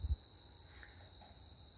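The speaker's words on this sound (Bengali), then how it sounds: "ঝিঝি পোকারা ডাকছে" Crickets chirping on a quiet, deserted autumn village evening, a faint, steady high trill holding continuously in the background after a brief low thump at the start.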